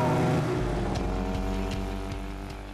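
A DKW 600 cc two-stroke supersport motorcycle engine runs with a rough, rhythmic chatter, a close steady rumble with faint repeated ticks over nearly three seconds.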